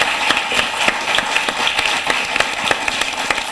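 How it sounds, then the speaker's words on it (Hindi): Audience at a Hindi poetry recital clapping for a poet, brisk, evenly spaced claps in a steady rhythm, fairly loud and close. "आप उनके लिए भी जोरदार तालियां बजा सकते हैं"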